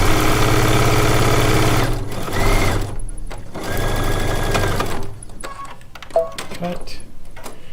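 Sewing machine stitching charm pack quilt pieces: a loud, close, fast mechanical whir that runs in bursts with brief pauses, then stops and gives way to small handling clicks, while a person talks.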